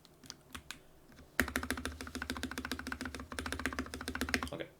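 Typing on a Varmilo Miya Pro Koi Edition keyboard with Cherry MX Red switches: a few separate clacks, then a fast, dense run of close keystrokes with stabilizer rattle, alone and without speech.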